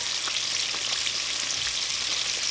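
Mustard-coated catfish fries in oil in a skillet, giving a constant bright, close crackle and sizzle with small pops, steady and loud from start to finish, with no voices.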